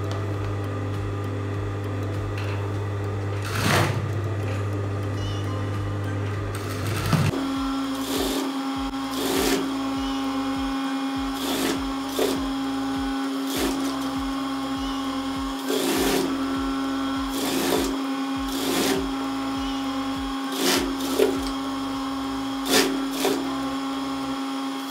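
A sewing machine runs continuously as it stitches around a pair of jogger pants, giving a steady close-up motor whir with short, regular pulses and clicks as the fabric is guided.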